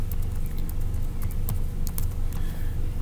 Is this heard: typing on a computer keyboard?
yes